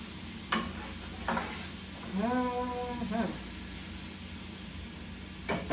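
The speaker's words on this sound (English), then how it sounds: "I'm going to go ahead and stir these guys around" Mushrooms and poblano peppers sizzle softly in a pan, with a few sharp scraping stirs of the spatula and a brief voice partway through, all fairly faint.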